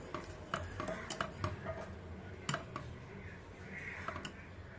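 A thickened egg sweet mixture scraped from a pan into a baking tin, with soft clinks and scraping taps of a utensil on metal, close but quiet, in a few irregular strokes.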